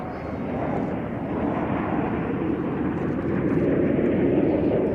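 Red Arrows jets flying the Diamond roll in formation, producing a broad, steady roar that swells slightly toward the end, heard from a distance with no talking.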